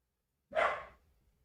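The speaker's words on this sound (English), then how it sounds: "Max is barking." A dog named Max gives a single short, breathy bark or huff, fairly close, then silence.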